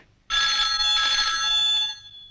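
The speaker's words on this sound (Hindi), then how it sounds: "देखना तो किसका फोन है।" A telephone rings loudly and steadily for about one and a half seconds in a quiet indoor family setting, with a bright, sustained electronic tone and no talking over it.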